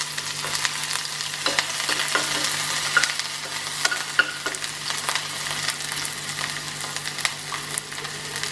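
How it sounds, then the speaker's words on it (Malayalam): Five chopped shallots sauté in two tablespoons of coconut oil in a pan, giving a steady, moderate sizzle broken by frequent scraping and tapping as they are stirred, with no voices. "ഒരു പാനിൽ 2 ടേബിൾസ്പൂൺ വെളിച്ചെണ്ണ ഒഴിച്ച് അതിലേക്ക് ചെറുതാക്കി മുറിച്ചു വെച്ച 5 ഉള്ളി"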